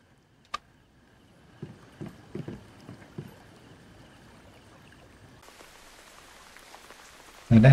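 Rain falling in the survival game Once Human, beginning as scattered drops and taps before thickening into a steady hiss, with a loud burst at the very end.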